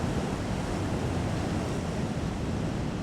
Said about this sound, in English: Look at those waves breaking on the reef.